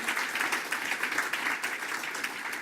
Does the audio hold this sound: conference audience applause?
yes